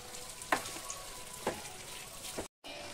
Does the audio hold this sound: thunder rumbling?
no